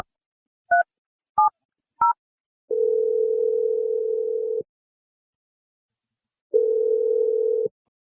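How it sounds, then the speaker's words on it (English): A telephone call being placed: three short keypad beeps, then two long, even ringing tones separated by a gap of silence, clean and close. "I'm going to dial your sister's number right now"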